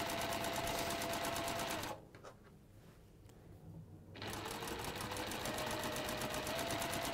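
Sewing machine running a continuous chain stitch through fabric, a loud, steady rapid whir that stops for about two seconds mid-clip and then resumes at the same pace.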